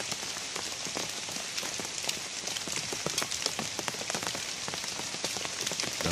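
Steady rain pours down during the rainy season, a dense broadband hiss of drops on surfaces with scattered sharper taps, continuous and fairly close throughout with no voices.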